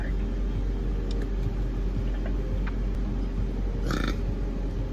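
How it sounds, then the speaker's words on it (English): A person lets out a burp after eating cereal, heard as a brief low rumble inside a car over steady engine noise. "One of those cereal burps."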